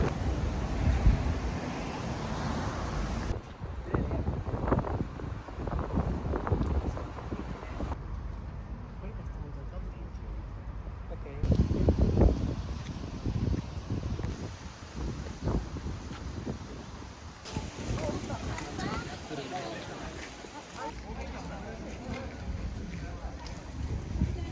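Strong wind at Nagoya Castle roars and buffets the microphone in a continuous, gusty rumble for the whole stretch, rising and easing in loud surges, with voices partly buried beneath it.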